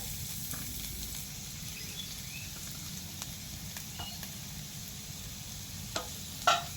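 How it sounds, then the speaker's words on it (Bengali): Grated carrot stirred into lightly fried onions in a pan, with a faint continuous sizzle, occasional soft scrapes and a sharper clink near the end. "পেঁয়াজটাকে হালকা একটু ভেজে নিয়েছি এবার এর মধ্যে দিয়ে দেবো গ্রেট করা গাজর"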